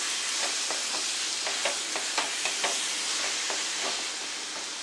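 Boiled soya chunks stirred into hot frying masala in a pan for soya chunk sabji, a steady sizzle with repeated scraping stir strokes, close and fairly loud, with no talk.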